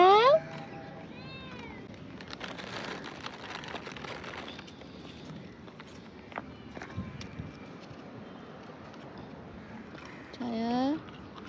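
A cat meows a few times, first at the start and again near the end, with drawn-out rising and falling cries heard close by, and a person talks quietly in between on an empty street.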